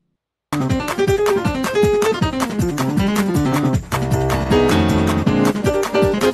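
Piano sounding a half-diminished chord over the root amid a continuous run of struck chords and melody notes, loud and close with no talk.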